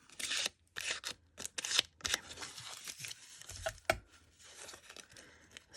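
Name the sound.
tearing paper into little strips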